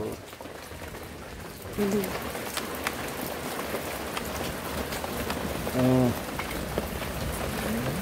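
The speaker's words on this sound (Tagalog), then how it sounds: "inabot na ng ulan si Mike Kalikot." Steady rain falls throughout, with a few brief bird calls poking through the patter.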